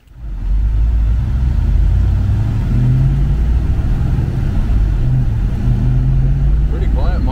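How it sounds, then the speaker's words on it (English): Ford Fox Body Mustang engine running through quiet mufflers, a loud, steady low drone heard from inside the car that starts up and holds, with a voice talking over it. "Pretty quiet mufflers on her."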